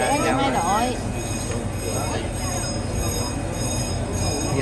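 Train ride at the Dutch Wonderland amusement park, with a steady rumble of rolling wheels and squealing, whining metal tones rising and falling, heard continuously and fairly close throughout.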